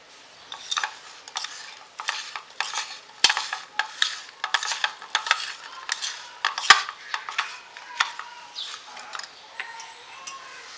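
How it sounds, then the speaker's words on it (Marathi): A spoon stirring turmeric into green chilli pickle in a bowl, a steady run of quick scraping clinks and knocks repeating about every half second, close and fairly quiet. "त्याच्यामध्ये एक चमच हळद आणि चांगलं मिक्स करून घ्यायचे"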